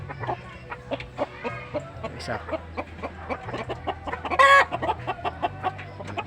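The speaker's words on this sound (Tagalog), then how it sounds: "Yung matapang natin manok oh." A feisty rooster kept among backyard chickens clucks in quick repeated bursts, close by, with one louder squawk near the middle, while someone talks intermittently over the birds.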